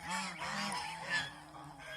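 Large domestic geese at a farm in Mohanganj, Netrokona honk in a run of several loud, nasal calls, overlapping and close, with brief gaps between bursts.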